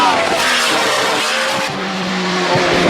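A race car roars past with a loud, continuous engine drone and screeching tires, the sound dense and close throughout.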